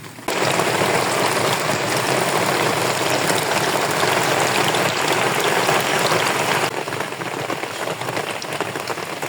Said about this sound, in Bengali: এদিকে বৃষ্টি চলে আসছে আবার